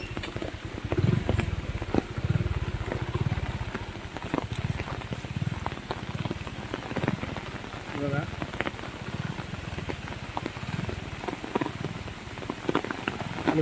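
Heavy monsoon rain pours steadily during a cloudburst and flooding in Vaibhavwadi, a dense, continuous hiss and patter on surfaces nearby, with a person talking faintly underneath.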